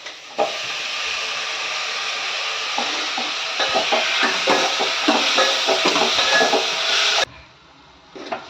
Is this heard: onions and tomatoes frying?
yes